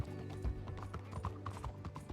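In Red Dead Redemption 2, a horse's hooves clip-clop in a steady, fairly quiet rhythm with no talking.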